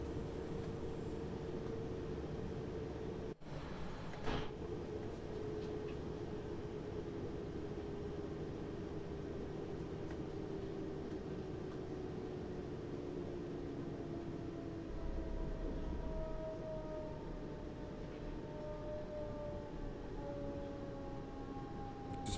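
In Train Sim World 5, a train rolls into the station on the neighbouring track, giving a long steady low rumble and rail hum with faint squeals and a sharp clunk early on, heard without talk.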